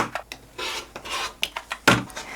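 Short scraping, rasping strokes as a rotary cutter or blade trims through layered scrap fabric squares, several quick close cuts in an irregular rhythm, with no talking.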